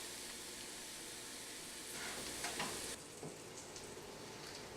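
Arborio rice toasting in a pan for chicken risotto, a close, steady sizzle with light scraping as it is stirred, no talk.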